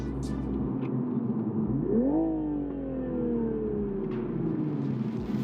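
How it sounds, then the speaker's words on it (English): A Toyota GR Supra's sport exhaust blips sharply once, the rev rising quickly and then sinking slowly back toward a low idle rumble, heard nearby and alone without voices. "the exhaust is a lot louder. I mean, listen to this."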